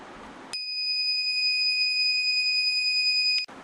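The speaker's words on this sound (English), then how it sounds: "the buzzer goes off" A shrill electronic burglar alarm buzzer sounds continuously for about three seconds, loud and steady, then cuts off abruptly.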